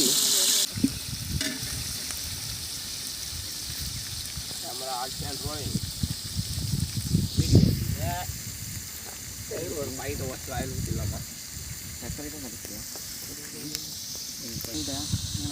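Chopped onions sizzle and hiss steadily in a hot pan while making chicken biryani, as people talk over the frying.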